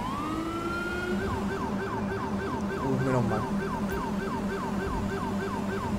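Police car siren wailing steadily in the GTA V LSPDFR game, a repeating electronic yelp cycling over the engine drone, loud and continuous, with someone briefly speaking over it.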